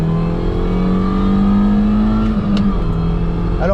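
Mini Cooper S with 170 hp and tuning, heard from inside the cabin as its engine pulls steadily under acceleration, a loud continuous drone rising slowly in pitch with no talking.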